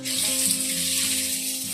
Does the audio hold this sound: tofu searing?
yes